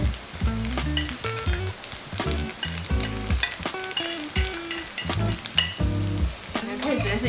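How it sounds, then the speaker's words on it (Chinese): Bamboo shoots are stir-fried in a generous amount of oil in a wok, giving a continuous loud close sizzle with rhythmic scraping and tossing from the spatula throughout. "我们就把我们的笋子把它丢进去炒"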